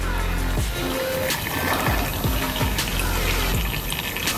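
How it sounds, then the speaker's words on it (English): Liquid nitrogen drips and trickles off a clump of frozen cotton candy, a steady close watery patter with faint hissing throughout, no talking. "it's just dripping liquid nitrogen"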